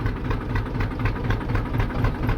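A tractor stuck in the ground idles nearby with a low, rhythmic chugging throb and steady vibration, loud and uninterrupted, with no voices.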